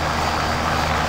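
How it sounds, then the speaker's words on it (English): Loud, steady engine drone of a helicopter in a video game, a continuous rumbling whir close up with no talk. "You're scared of the helicopter?"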